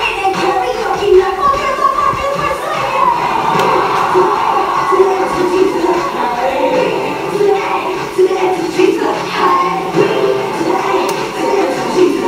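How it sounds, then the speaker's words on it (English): A large audience at a singing competition final cheers and screams wildly and without pause, a loud, dense roar with voices rising over it throughout. "Sobrang nag-wild na yung crowd."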